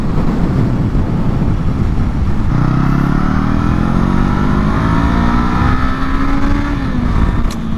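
A Brixton Crossfire 500 X twin-cylinder motorcycle is ridden loud and close, its engine note climbing steadily as it accelerates through a gear before easing off, with rushing wind noise and no speech.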